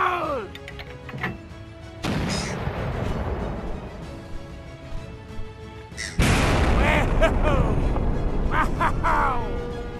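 A VR video game explosion bursts loud and broadband, followed by a long rumbling tail and then a second, louder blast that sustains with debris and roar; a voice is heard early on.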